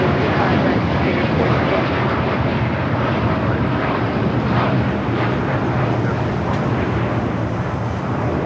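A Japan Airlines airliner departing LAX for Tokyo Narita produces a loud, steady jet roar that fills the whole stretch without a break, with wind rumble mixed in.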